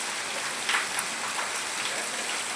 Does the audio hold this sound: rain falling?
yes